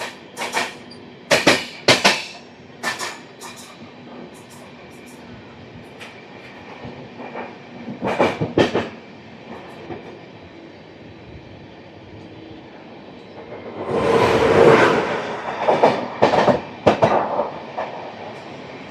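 Toofan Duronto express (12213, Yesvantpur to Delhi Sarai Rohilla) runs through Okhla railway station without stopping: a steady rumble of rolling wheels and carriages, broken by repeated sharp rail clacks, swelling loudest toward the end.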